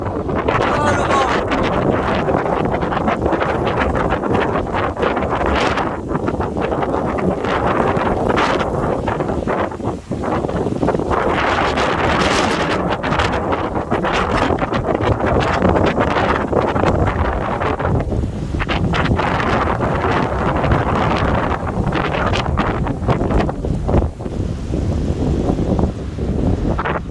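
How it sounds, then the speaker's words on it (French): A strong foehn wind storm roars in a continuous, gusting rush that batters the microphone with loud rumble and buffeting, swelling and easing in waves for the whole stretch. "Ah le vent."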